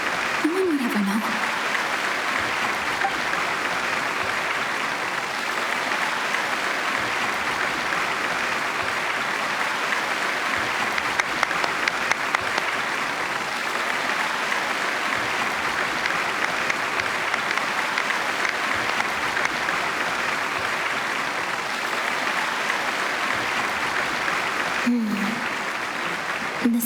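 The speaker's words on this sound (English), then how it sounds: "The applause continue after I take off the mask." An audience in a video game applauds at a curtain call, with sustained, even clapping from a large crowd for nearly half a minute, steady and loud throughout, and a few faint vocal sounds near the start and end.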